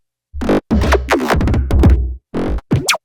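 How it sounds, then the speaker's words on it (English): Glitchy electronic sound effects built in Ableton Intro with the Drift synth: a burst of stuttering, pitch-sliding synthetic tones broken into choppy fragments with short gaps, loud and without any talking. "we're going to make some glitchy sort of stuff in Ableton intro."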